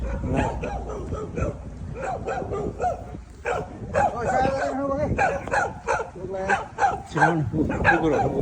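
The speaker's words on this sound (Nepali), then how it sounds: "आइसक्यो यार कुकुरहरू।" Several dogs bark and yip in a jungle, with loud repeated barks and whimpers mixed with people talking nearby throughout.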